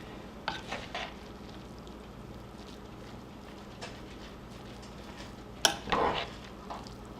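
A spoon stirs eggs and chopped vegetables into a country cornbread dressing mix, making faint, scattered scraping and wet mixing sounds, with a few louder bursts of activity.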